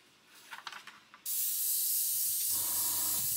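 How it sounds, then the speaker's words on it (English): Aerosol can spraying metallic paint onto a plastic scale model, a steady close hiss that starts abruptly after a few faint handling taps and keeps going to the end. "And just lightly spray in there."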